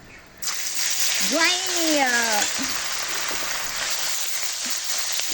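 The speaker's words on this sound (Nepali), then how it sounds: "लसुनलाई मजाले भुट्ने" Garlic paste and fenugreek seeds frying in hot oil make a sudden, steady sizzle that continues throughout, with a voice speaking briefly over it.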